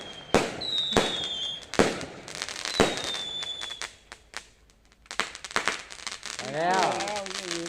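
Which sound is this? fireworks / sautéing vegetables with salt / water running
fireworks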